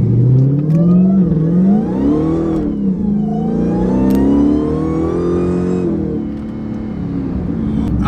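A Stage 1 Dodge Charger Hellcat with 900 hp to the wheels pulls away hard from a red light, its loud engine rising and falling in pitch through the gears as it accelerates, heard up close with no talking.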